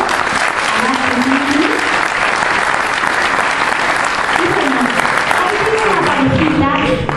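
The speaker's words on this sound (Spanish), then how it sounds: "que les pido un fuerte aplauso" A large audience at a seminar in Spanish bursts into loud, sustained applause that fills the whole stretch, with a voice briefly rising over the clapping.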